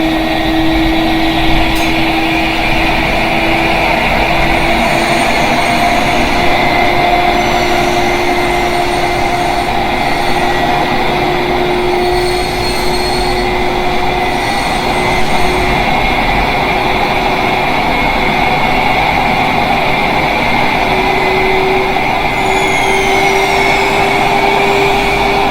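A 500 kW generator runs with a steady, continuous mechanical hum and whine at constant loudness, no speech over it, the drone unbroken for the whole stretch.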